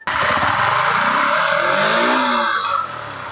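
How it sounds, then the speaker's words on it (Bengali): A motorcycle running on a homemade substitute for octane and petrol fires up and holds a steady, loud idle close by, with a slight drop in level near the end. "হ্যাঁ, বাইকটা স্টার্ট কিন্তু এখন কিন্তু স্টার্ট হয়েছে এবং স্টার্টে আছে, এই যে বাইকটা স্টার্টে আছে।"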